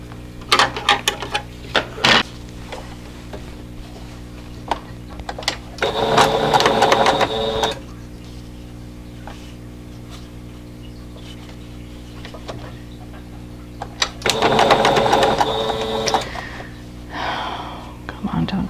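A sewing machine joins quilt block pieces for a four-corner puzzle block, running in two short close bursts separated by quiet handling noises.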